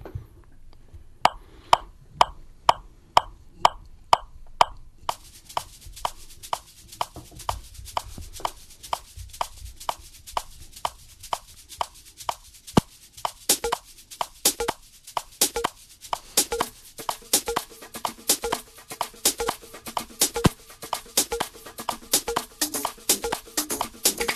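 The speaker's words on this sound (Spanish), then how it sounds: "ahora se verán que hay maracas, que entran platillos, que entran distintos sonidos" Sharp rhythmic percussive hits start alone, then a dense maraca rattle joins with bright metallic cymbal crashes layered over a steady beat.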